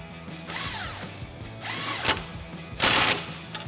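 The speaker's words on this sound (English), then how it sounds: "Using your 17 and your 18 socket, go ahead and tighten it down." Sway bar end link nuts on a 2015-2019 Mustang are run down with 17 and 18 mm sockets in three short whirring tool bursts separated by brief pauses, close and distinct.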